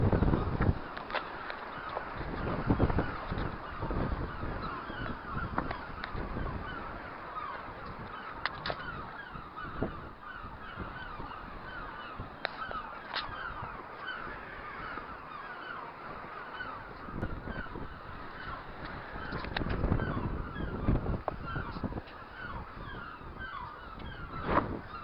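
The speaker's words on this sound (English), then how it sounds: "Look at these seagulls." Seagulls calling by a coastal rock in Scotland, a dense chorus of honking, overlapping cries from many birds perched nearby, steady across the whole stretch with occasional louder squawks and no talk.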